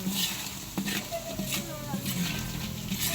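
Kikiam frying in a pan with a little oil, a steady sizzle with occasional stirring clinks of a utensil against the pan, heard up close.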